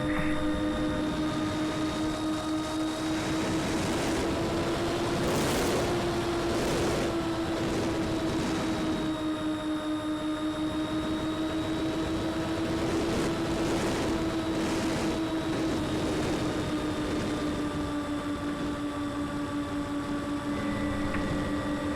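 A Skymule RC aircraft flies around a field, its electric motor giving a steady whining hum with slight pitch shifts as it passes, continuous and moderately loud with no talk.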